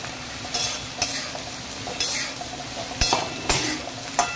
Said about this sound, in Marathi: आता आपण गोसावळं तेलात टाकून फ्राय करून घेऊया